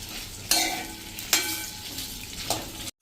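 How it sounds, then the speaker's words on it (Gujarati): Potato chips frying in oil over a medium flame, a steady close sizzle with a few sharper bursts as the slices are stirred, no voices. "આપણે જે બટેટાની ચિપ્સ મેં પાણીમાંથી કાઢીને અને કોરી કરી લીધી છે, તો એને આપણે સોફ્ટ થાય ને ત્યાં સુધી ફ્રાય કરશું"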